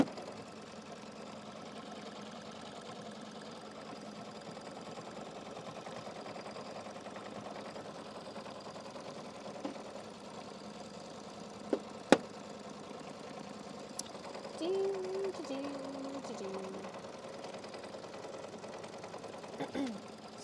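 An embroidery machine quilting in the hoop hums with a steady, faint, even stitching drone, with a few soft clicks and a brief voice in the background.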